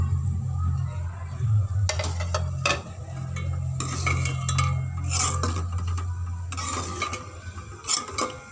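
Onion and garlic cook in a pan while a utensil scrapes and clanks against the metal in repeated stirring bursts, with a soft low sizzle and hum underneath.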